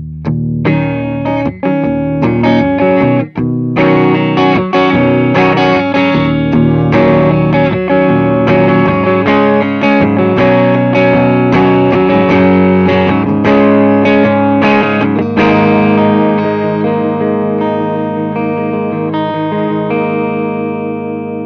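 An electric guitar plays through the clean channel of a Slash signature SL5 amplifier, with loud, continuous strummed chords and picked notes ringing out for about twenty seconds, alone without talk.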